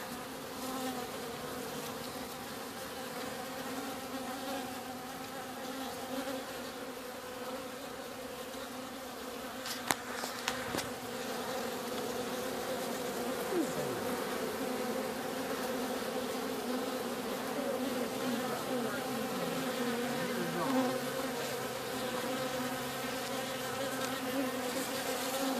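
Honey bees swarm around a hive during a trap-out in Mulberry, Florida, making a dense continuous buzzing drone with a few louder individual bees passing close by and a brief knock near the middle.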